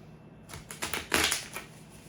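Tarot cards being shuffled by hand, a short soft riffle of rapid papery flutters building and fading over about a second and a half, close and quiet with no talking.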